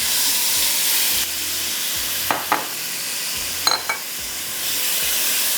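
Meat goes into hot masala in a pan, giving a steady sizzling hiss with short scraping stirs of a spoon, loud and close and with no talk.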